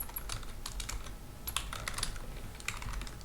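Quiet, rapid clicking of computer keyboard keys while a name is typed in, an irregular run of soft, close taps with no talking.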